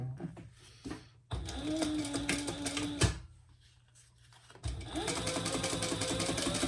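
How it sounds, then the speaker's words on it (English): A sewing machine stitches a detachable strap on a thick PVC waterproof canvas bag, running in steady close bursts with a brief pause in the middle before whirring on again. "We'll sew down both sides."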